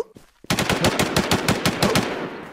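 Rapid automatic gunfire from the video game Infestation rings out in one sustained burst of about a dozen sharp, evenly spaced shots after a brief quiet lead-in.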